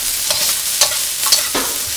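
Cabbage with sugar stir-fries in a hot wok, a loud steady sizzle broken by several scraping stirs, close up with no talking.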